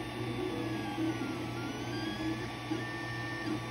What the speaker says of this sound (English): As you guys can see, I'm printing a bigger part.